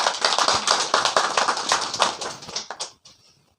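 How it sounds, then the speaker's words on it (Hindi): A crowd at a headmaster's retirement gathering claps in a lively, close burst that thins out and stops after about three seconds. "तालियों से स्वागत भी करें"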